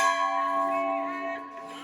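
A temple bell at Kubereshwar Dham rings out with one clear metallic strike. Its bright tone holds and slowly fades over about two seconds.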